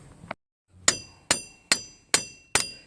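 A hammer taps on the center axle of a Chevrolet Trailblazer front wheel bearing: one light tap, a pause, then five sharp ringing metallic strikes at an even pace, close and alone.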